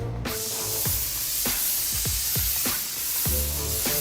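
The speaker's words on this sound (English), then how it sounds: "you pull it back more, then there's the spray, there's the paint that comes out" Paint spray gun coating a VinFast car body, giving a steady close hiss that swells in rhythmic pulses roughly every half second as the gun sweeps back and forth. No one speaks.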